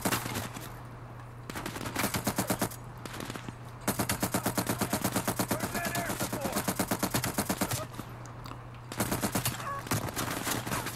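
A light machine gun fires long rapid bursts in a Call of Duty: Black Ops Cold War game, loud and close, with short pauses between strings of shots.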